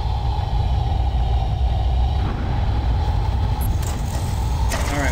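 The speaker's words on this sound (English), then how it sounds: "That noise you hear, that's wind." Planetary atmosphere wind in the space game Evochron Legacy, a steady loud low rumbling roar with a droning tone and occasional brief higher hisses, no speech.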